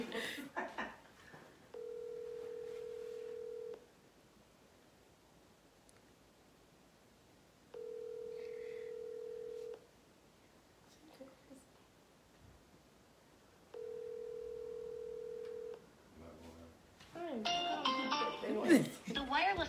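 A phone call ringing out unanswered, three long steady ringback tones separated by pauses, followed by louder rustling and a voice at the end.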